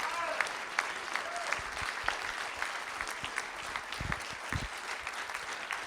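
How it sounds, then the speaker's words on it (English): A crowd claps steadily in a school board meeting room, dense overlapping applause at moderate distance, with a few voices murmuring underneath. "Let's have a huge round of applause to the Greyhound Athletic Department."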